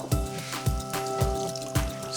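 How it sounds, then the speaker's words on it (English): Grated cucumber for tzatziki is squeezed and strained, and liquid trickles and drips out of it at close range in four regular pulses about half a second apart, each with a soft low thump, over a steady background hum. "so you want to drain some of the water out"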